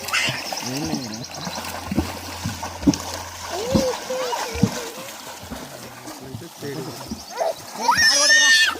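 Water splashes repeatedly as children swim, with excited voices talking and calling over the splashing.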